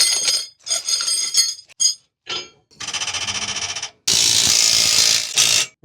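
Metal U-bolts are handled and fitted onto new leaf-spring suspension of an enclosed trailer, giving bright ringing clinks and jingling scrapes in short bursts, close and loud with brief pauses between.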